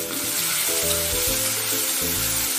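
Tomato frying in a pan for matki usal, a sprouted moth bean curry, giving a continuous loud sizzle with a low rumbling drone underneath.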